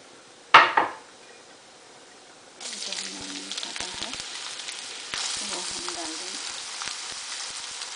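Onions hitting hot oil with cumin for spinach chana dal burst into a loud, steady sizzle that surges again midway, after a sharp clatter of pans at the start.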